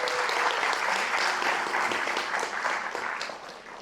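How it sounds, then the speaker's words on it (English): An audience at a studio's grand inauguration event applauds everyone present, a fairly quiet, steady wash of clapping that thins toward the end. "let's give a round of applause for everybody that's here."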